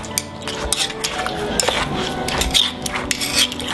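Clattering and scraping of Asian-style papaya salad being stirred and tossed in a bowl with a little added water, a steady run of utensil knocks and wet mixing sounds close by.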